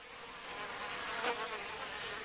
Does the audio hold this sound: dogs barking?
no